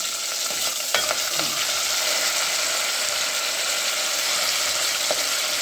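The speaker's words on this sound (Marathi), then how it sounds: "राई आणि जिरं तडतडली की मग कढीपत्ता आणि मिरची टाकायची ना लाल मिरची" Mustard seeds, cumin, curry leaves and red chilli crackle and sizzle steadily in hot oil while tempering dal for a festive meal, with a few sharp pops over a continuous close frying hiss.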